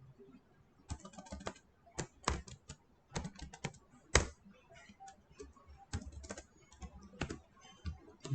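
HTML code being typed on a computer keyboard, quiet close keystrokes arriving in short irregular bursts with pauses between them.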